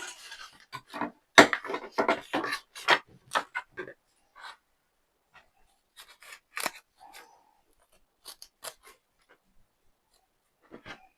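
Scissors snip out a paper picture for a journal card, a busy run of crisp cuts at first, then sparse, quieter snips spaced apart.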